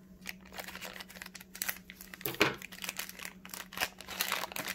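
Crinkly plastic packaging from a Govee indoor thermometer-hygrometer is cut open, giving close, irregular crackling and crumpling with a few sharper snips and rustles, no talking.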